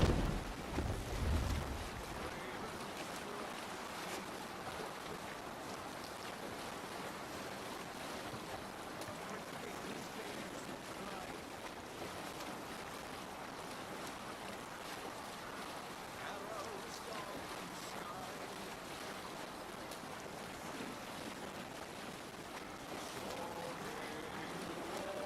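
A sailing ship rides open water in Assassin's Creed Valhalla, a steady wash of waves and wind rushing on for a long stretch, with a brief louder thump at the start.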